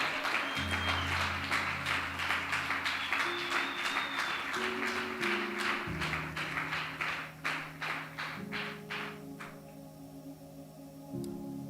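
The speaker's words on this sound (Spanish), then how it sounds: "toda la iglesia te da un fuerte aplauso" A church congregation applauds in rhythmic, even claps over sustained organ-like music chords, the clapping gradually thinning out toward the end.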